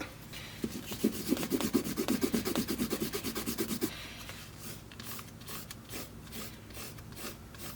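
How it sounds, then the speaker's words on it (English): Leather-working swivel knife being stropped against a hard surface, a quick run of rhythmic rubbing strokes close up for about three seconds, then quieter scattered scraping. "So the swivel knife, we're definitely going to have to strop it."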